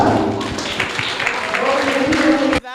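An audience at a World Mental Health Day panel discussion claps for a panelist joining the stage, a fairly loud, continuous patter mixed with some voices that cuts off sharply near the end.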